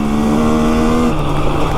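A truck climbs a muddy, wet hill with its engine running loud and steady, the tone holding, then dropping in pitch partway through as it labors, heard close with no talking.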